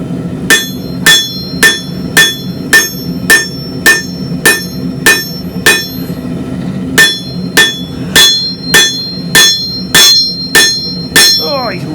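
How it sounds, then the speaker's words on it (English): Hammer blows ring out on hot steel as a hook knife is forged, a steady run of sharp metallic strikes with brief pauses, close and loud over a low workshop hum. "Oh, you can regret every single one of those hammer marks"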